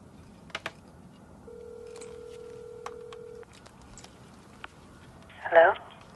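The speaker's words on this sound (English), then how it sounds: "I think I dialed the wrong number" A telephone is dialed in a TV drama: a steady mid-pitched tone holds for about two seconds, with scattered short clicks and beeps before and after it, then a brief louder burst near the end.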